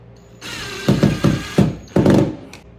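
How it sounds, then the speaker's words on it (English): A power drill drives screws into a kayak gear track, giving several short close bursts of whirring and grinding, each a fraction of a second, with brief pauses between them. "Pop the rest of those screws down."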